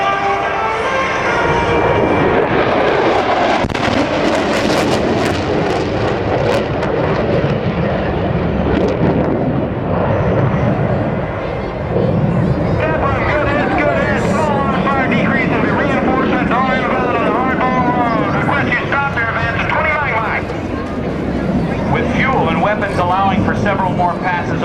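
Military jets make an attack run at a naval air station airshow, a loud continuous roar of jet engines that swells and rumbles throughout under a public-address announcer's voice.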